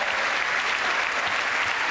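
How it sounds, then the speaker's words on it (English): A chamber crowd applauding at the State of the Union address, a loud, continuous mass of clapping with no break. "A clap already? That's a standing O?"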